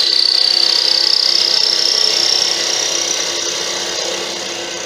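Carbide tool cutting a spinning wooden blank on a lathe while shaping small carrot cones, a close, continuous high scraping hiss over the motor hum that eases off slightly toward the end.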